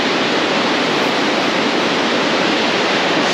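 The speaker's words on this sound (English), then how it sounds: "I'm definitely in awe of the amount of water flowing down here." Augrabies Falls thunders with a massive flow of floodwater, a loud, steady, broadband roar of pouring water that fills the whole moment with no voices over it.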